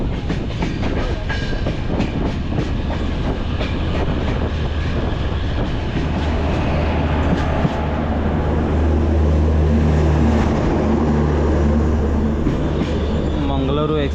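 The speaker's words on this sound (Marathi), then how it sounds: "सात वाजून 10 मिनटं गाडी आली सावर्डा." A passenger train on the Ratnagiri–Diva route arriving at Savarda station rumbles steadily with rhythmic wheel clatter and rising low droning tones as it slows, loud and close throughout, heard from on board.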